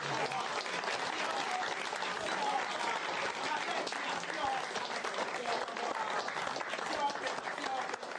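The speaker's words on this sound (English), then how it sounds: "More round of applause." Youth dialogue audience gives a round of applause after a candidate's speech, dense continuous clapping and crowd noise at steady strength throughout, with voices blended into the roar.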